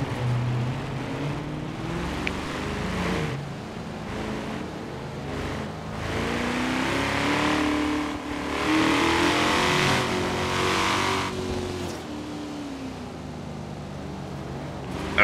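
Car engines rev and rumble at a car meet in the racing game Forza Horizon 3, several overlapping revs rising and falling over steady motor drone, fairly loud with no talk.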